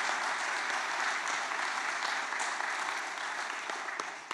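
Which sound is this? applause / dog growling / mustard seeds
applause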